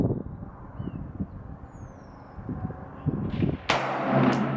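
Subsonic Sig Sauer 300 BLK 220 grain round fired from a short Bear Creek Arsenal rifle during outdoor chronograph testing, a single sharp report near the end following low rumbling handling noise and wind.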